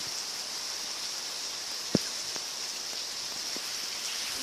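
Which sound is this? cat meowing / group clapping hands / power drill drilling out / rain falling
rain falling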